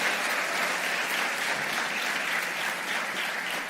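Audience at a motivational class breaking into a steady, dense burst of applause, loud and uniform with no voices over it.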